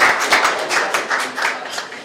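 An audience at a political introduction breaks into clapping, a steady patter of many hands with a few louder accented claps, fairly close and with no speech over it.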